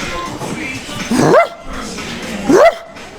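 A man imitates a dog bark with his voice, two short rising barks about a second apart, loud and close, over background room noise.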